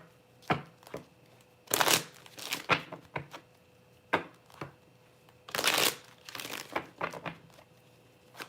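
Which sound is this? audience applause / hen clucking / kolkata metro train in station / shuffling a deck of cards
shuffling a deck of cards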